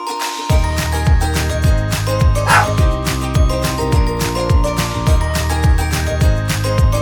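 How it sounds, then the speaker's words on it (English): A dog barks in a rapid, steady series of loud, close yips and bow-wows over a light tinkling background. "D for dog."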